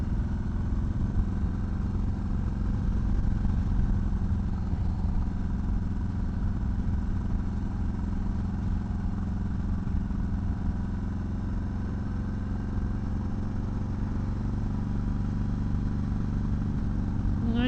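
A Harley-Davidson Softail motorcycle rumbles along on the road with a steady, continuous engine drone and wind noise, close up from the rider's position.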